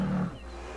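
Bear in Red Dead Online giving a short, loud, guttural roar that lasts under half a second, then fades into quiet ambience.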